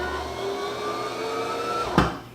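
Brother CS5055 sewing machine winding a bobbin, a steady motorized whir with a fixed hum held for about two seconds, then a short bump and the motor easing off.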